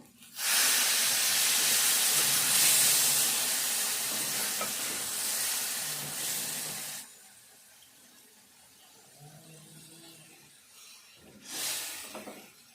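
A loud burst of hissing steam as water hits a hot pan of soya chunks and moong dal, fading to a low simmer, with another brief hiss near the end.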